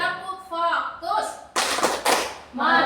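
Group rhythmic clapping during a positive-culture dissemination session, with short bursts of claps alternating with a leader's chanted call-outs and the group's spoken responses.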